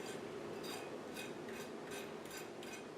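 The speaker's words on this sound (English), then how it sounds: "Just running my knife across it" A knife is scraped repeatedly across a cooked steak seared in a non-stick pan, making about six faint, evenly spaced rasping strokes over a quiet background.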